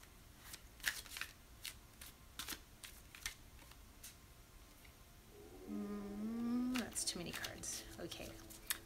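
Repeated crisp riffling of a card deck being shuffled, several quick bursts, followed by a brief murmured voice and another shuffle.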